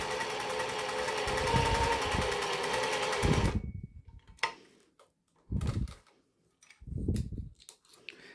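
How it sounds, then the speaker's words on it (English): A sewing machine runs a straight-stitch seam for a steady close burst of about three seconds, then stops, followed by a few separate thuds and fabric handling sounds with quiet pauses between them. "we select our straight stitch and we run a normal seam"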